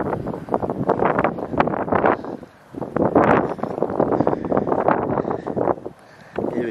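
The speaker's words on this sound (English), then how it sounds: "A bit windy this morning." Wind on a beach in the morning buffets the microphone in loud, irregular gusts with brief lulls, rough rumbling bursts and nothing else clearly audible.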